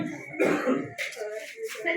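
A couple of short, rough coughs up close, followed by brief vocal sounds.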